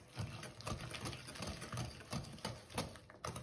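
An electric mixer beats cookie dough right after an egg is added, giving a steady close mechanical whir with rhythmic pulsing surges as the beaters work the batter.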